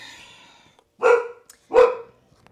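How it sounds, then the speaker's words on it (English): A dog barks twice, two loud, close bursts about three-quarters of a second apart, ringing out in a quiet room during a morning yoga session. "Uh-oh, we got a barking dog."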